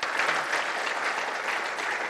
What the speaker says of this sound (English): Round of applause for Con.